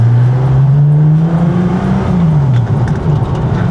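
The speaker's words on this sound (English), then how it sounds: "The titanium exhaust is so raspy, I love it." A sports car with a raspy titanium exhaust revs hard, its engine note climbing and dipping in loud, rough sweeps that fill the whole stretch with no talking.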